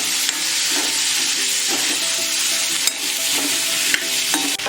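Hyacinth beans and potatoes frying in hot oil, with a constant close sizzle broken by repeated scraping stir strokes of a spoon in the pan.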